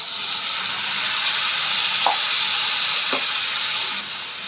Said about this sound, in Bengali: মশলা আমার কষা একদম রেডি হয়ে গেছে, যে কালার দেখেই বোঝা যাচ্ছে। তো এরপরে একবারে জল ঢেলে নেবো।